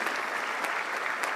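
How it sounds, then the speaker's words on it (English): An audience at a formal occasion gives the chairman a standing ovation. The applause is dense and sustained and fills the whole moment, with crowd claps close and loud throughout. "with a standing ovation and some wonderful applause"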